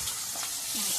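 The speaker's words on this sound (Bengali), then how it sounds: "মাছ ভাজাটাও হয়ে গেছে" Fish fry in hot oil for a home-style fish curry, a steady, close, hissing sizzle running throughout with soft stirring movements underneath.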